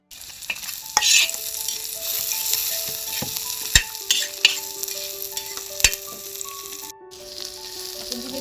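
Green chillies and onion roast in a pan for a cluster bean chutney with a close, crackling sizzle. Sharp scraping strokes of a spatula cut through it several times, and faint tonal whines from the pan or stove run underneath.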